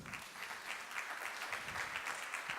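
Audience applause fills a morning kickoff event for a school district program, steady dense clapping from a crowd held at an even level throughout.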